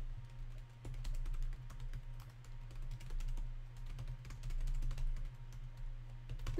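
Soft, rapid clicking of computer keyboard typing during a Roblox cookie-eating contest runs continuously and faintly over a low steady hum, with no voices.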